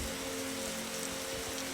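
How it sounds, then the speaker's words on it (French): Rain in the video game 99 Nights in the Forest hisses as a dense, constant downpour, steady and loud throughout with a faint low hum beneath, and no talk. "vu qu'il pleut"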